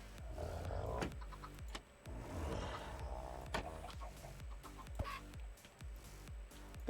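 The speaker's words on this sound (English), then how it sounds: "We cannot have the walls full of chickens." Chickens clucking in Minecraft, a run of short, repeated clucks in an irregular rhythm with game noise beneath, fairly near and steady in loudness.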